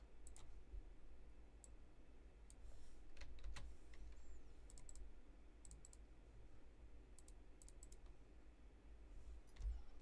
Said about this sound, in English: I'm going to hit enter and Control V, paste.